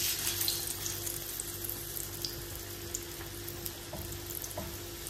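Flour-dredged fish fillet frying in hot oil, a steady bubbling sizzle with scattered crackles and small pops throughout, fairly close and without talk.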